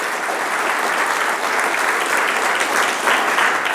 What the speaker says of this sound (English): can we give a big round of applause for them?